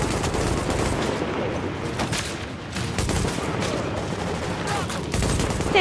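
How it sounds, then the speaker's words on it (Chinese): Machine-gun fire in Tom Clancy's The Division, a dense, continuous rattle of rapid shots with bursts and explosions, loud and close throughout. "新机枪根本打不中啊！"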